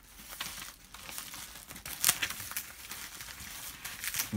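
A mailed trading card package is torn and crinkled open up close, with irregular crackling rips of plastic and paper building to several sharper tearing bursts, with no speech.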